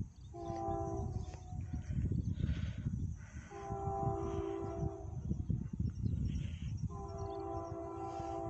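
A Union Pacific AC4400CW diesel locomotive leading box cars through El Paso, Texas sounds its horn in three long blasts over a steady rolling rumble of the train.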